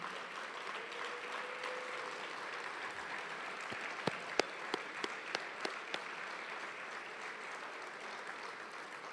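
Audience applause for the coaches' wives at a high school award ceremony, a continuous crowd clapping wash with several sharp, distinct individual claps standing out midway.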